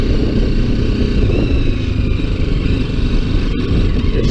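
BMW G310GS single-cylinder motorcycle riding across a wet paddock, a loud steady engine drone with wind rumble throughout, heard close from the rider's position.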